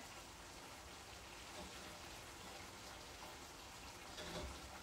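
A pot at a hard boil: dense, continuous bubbling and hiss, close and steady throughout.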